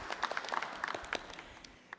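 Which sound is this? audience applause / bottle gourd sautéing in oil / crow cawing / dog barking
audience applause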